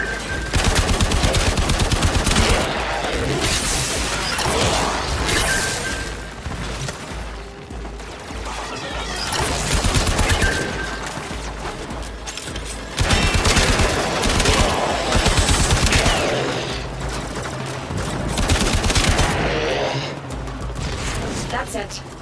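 Enemy gunfire in the Warframe sci-fi shooter, loud and nearly continuous, with dense automatic bursts and crashing impacts swelling and easing in waves, close and chaotic, with occasional in-game voice lines underneath.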